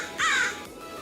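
A single loud crow caw rings out close by, a short harsh call over steady background noise.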